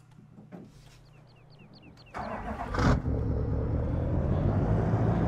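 Truck engine starts and drives in Farming Simulator 17, with a few short beeps, then a steady loud rumbling engine drone that continues without talk.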